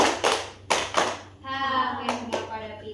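Children in a classroom clap a third rhythmic pattern: three sharp, close hand claps followed by children's voices chanting, with two more quick claps near the end.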